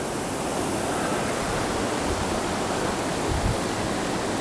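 River water rushing past a fishing spot where spotted bass are caught, a steady loud hiss of flow with a brief low gurgling surge near the end, no voices.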